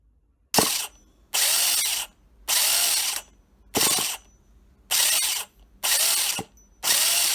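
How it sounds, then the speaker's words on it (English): Rotor starter on a 2003 Carson Rockwilder CP4-M vintage nitro monster truck engine, whose flywheel will not turn: seven loud, close whirring bursts of about half a second, separated by short silences, with no talking. "When I connect the rotor start to the unit, the flywheel doesn't even turn."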